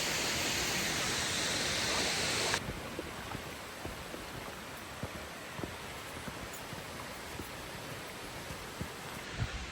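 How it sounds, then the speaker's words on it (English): Steady broadband rush of a waterfall on the Ricketts Glen Falls trail, loud and close, filling the whole clip with no talk; a brighter hiss in the first few seconds settles into a continuous roar. "Got another waterfall."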